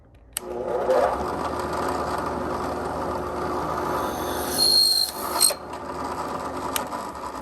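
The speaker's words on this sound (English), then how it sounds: "I like the brad point because it dimples it, and then it keeps it from moving while it pierces the outside" A brad point drill bit bores into a rosewood pen blank with a steady, close mechanical whir, a few sharp clicks and a brief louder grinding surge partway through before the drilling settles again.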